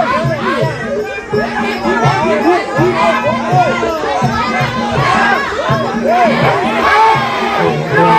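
A dense crowd at a women's Muay Thai bout in rural southern Isan roars and shouts without letup, with rhythmic ringside music pulsing underneath and voices calling out over the din.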